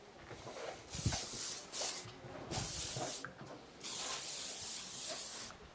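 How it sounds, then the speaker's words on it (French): Shine-finishing hair spray misted onto styled hair at a salon, heard as several close, loud hissing bursts of varying length separated by short pauses, with no talking. "Donc là, Cyril est en train d'appliquer juste le spray Brillance pour finaliser."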